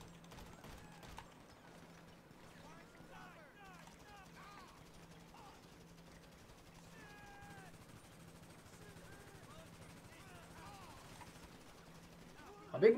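Scattered bursts of gunfire in GTA V, some sharp and close, others distant, crackle over a low steady hum, ending in a louder burst.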